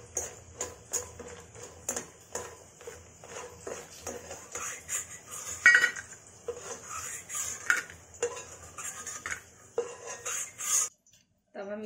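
Clinks and scrapes of utensils against a pan and plate as fried vadi are lifted out, a busy stream of light metallic taps and knocks over a continuous sizzle, with a voice talking throughout.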